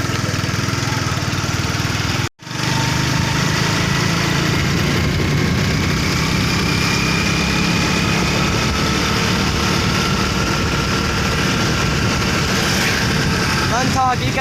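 Motorcycle engine running steadily and loud up close, a continuous drone with one brief cutout early on, under some talking.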